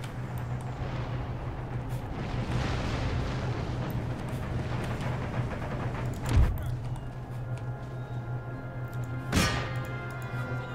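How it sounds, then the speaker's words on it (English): Howitzer artillery fires during a large battle in Empire: Total War, two heavy booms landing several seconds apart over a steady rumbling battle din. "that must be their howitzers causing those casualties amongst the Marines"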